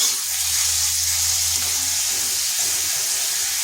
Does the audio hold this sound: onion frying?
yes